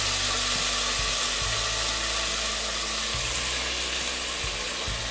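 Chopped mixed vegetables fry in hot oil with cumin, a steady close, loud sizzle running the whole time with a low hum underneath and no voices.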